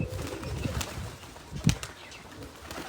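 Pigeons at a rural Punjabi loft give low throaty coos and brief flutters, close by and fairly soft over a steady outdoor background, with no voices.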